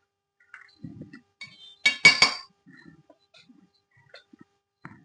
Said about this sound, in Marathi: एक छोटी वाटी शेंगदाणे मिक्सरच्या भांड्यात टाकून घेते